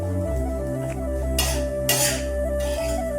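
Vermicelli being roasted and stirred in ghee in a pan, with sharp metallic scrapes and clinks of a spoon against the pan over a steady tonal hum, close and fairly loud.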